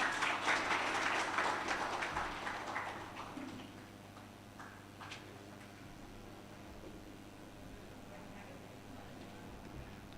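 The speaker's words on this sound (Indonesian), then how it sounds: "Aplaus buat beliau." Audience clapping at a union gathering, a brief burst of applause that starts loud and thins out within a few seconds, leaving quiet room tone with a few scattered claps.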